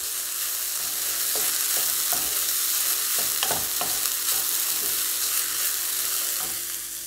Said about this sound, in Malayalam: ഇനി ഇതൊന്ന് ഇളക്കി കൊടുക്കാം.